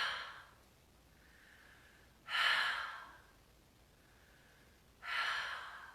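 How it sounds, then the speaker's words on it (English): Three forceful audible exhales during a guided breathing exercise, each a breathy whoosh a few seconds apart, with softer quiet breaths between them, close and otherwise silent. "sweep your hands up over your body, around your mouth, 3 audible exhales"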